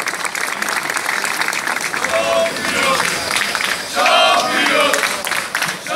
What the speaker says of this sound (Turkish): Ben Sayın Yaşar Yalçın'ı alkışlarla sahneye davet ediyorum